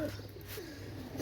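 Pakistani pigeons, a pair kept for sale, coo softly and continuously in low repeated murmurs, fairly close, with no talking.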